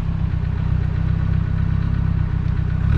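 A Renault R5 Alpine Turbo engine revving loud and close, with a steady rough knocking clatter pulsing through its low drone.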